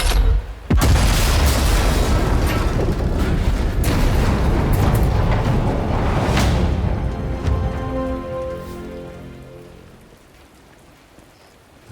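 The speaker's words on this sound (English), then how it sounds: "The gun will blow when it's fired." A sabotaged artillery gun blows apart on firing in the war game Sniper Elite 5, a loud booming blast followed by a long roaring, crackling rumble that slowly fades away.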